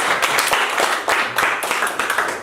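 A school class claps for classmates who just performed a story, a brief burst of loud, dense clapping from many children in a room, slightly uneven and fading toward the end.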